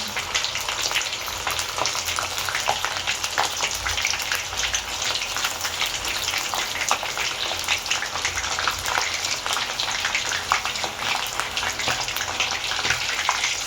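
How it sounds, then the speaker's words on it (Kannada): Brinjal bajji deep frying in hot oil, a dense, even crackle and bubbling that runs unbroken throughout at a steady, moderate level. "ಸ್ವಲ್ಪ ಡಿಪ್ ಮಾಡಿಕೊಂಡು ಡೀಪ್ ಫ್ರೈ ಮಾಡ್ಕೋಬೇಕು"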